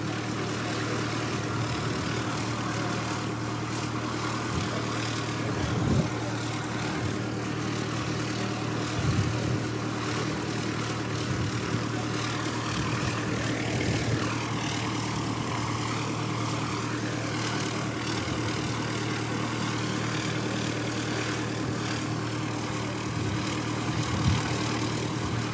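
An Emirates airliner's engines drone at Christchurch Airport, a continuous broad roar with a steady low hum. It stays fairly even and moderately distant throughout, with no voices.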